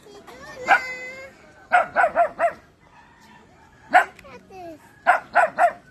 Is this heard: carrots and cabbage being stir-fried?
no